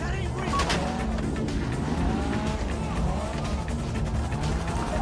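A getaway car in GTA Online, driving hard and close with a steady engine roar and repeated tire squeals, continuous throughout with faint game chatter underneath.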